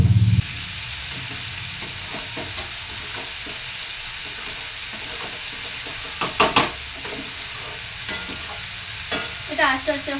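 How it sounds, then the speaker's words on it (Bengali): Spice masala for chicken curry stirred and frying in a pan, a steady close sizzle with scraping stir strokes and a few louder clatters near the end. "আজকে মশলা কষিয়ে করছি"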